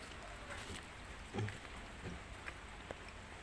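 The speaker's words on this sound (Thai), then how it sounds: "โอ้ฝนตกครับ" Steady soft rain falls outdoors beside a pond with water hyacinth and young trees where eels were released, a diffuse hiss with a few faint drops and light knocks, and no voices.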